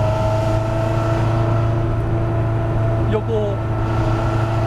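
An Alpine A110 engine holds a steady droning note that stays level throughout, running under close conversation inside the car.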